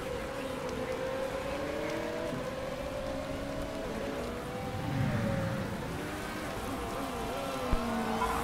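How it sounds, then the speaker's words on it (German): Steady hiss of rain on a road in a racing video game blends with droning engine tones, a continuous wet wash with no pauses. "Scheiß Regen auf der Straße."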